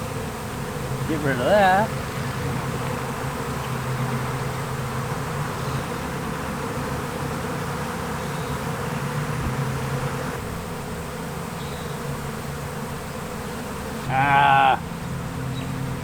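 A swarm of bees being caught drones in a steady, continuous hum throughout, with a few bleating animal calls rising above it, and a voice speaks briefly.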